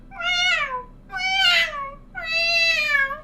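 A human voice imitates a cheetah meowing like a house cat, giving three drawn-out, high, nasal meows in a row, each rising and falling, close and clear with no other talk.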